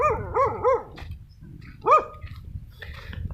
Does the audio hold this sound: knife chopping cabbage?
no